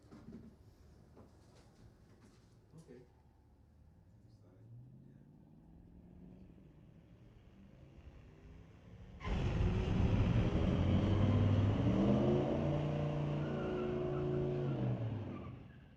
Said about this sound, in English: A Cadillac, Tower Lane, racing a 1973 Pontiac.